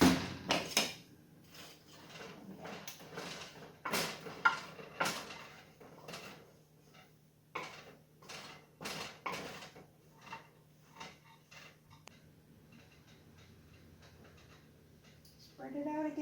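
An oil-free granola tray comes out of the oven and gets stirred, with scattered clanks, scrapes and rattles of the metal pan and utensil, close by, in uneven bursts separated by quiet gaps.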